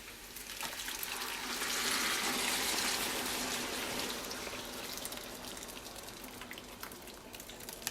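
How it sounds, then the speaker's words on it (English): Homemade chile verde is poured into a pan of fried pork ribs with a little lard left in it, a soft continuous liquid gush that swells, then eases into a quieter trickle. "Now I'm gonna go ahead and add my chile that I made."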